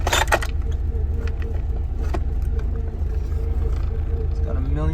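A compartment full of loose screws rattles inside a Honda CRX, with a jangling burst up front, then scattered clinks over the car's steady low rumble.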